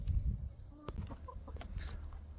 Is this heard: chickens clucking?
yes